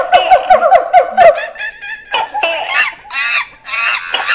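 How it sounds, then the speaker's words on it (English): Comedy sound effect of monkeys, ducks and iguanas, a loud burst of rapid chattering, squawking and cackling calls layered together and bouncing over each other, with no talk. "the sounds of those crazy monkeys, ducks, and iguanas bouncing around Light Talk Central"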